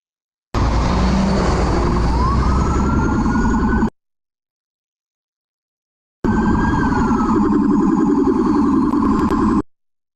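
Two long bursts of loud wailing emergency siren, police car, ambulance and fire engine style, each lasting over three seconds with a rising and falling pitch and a silent gap between them.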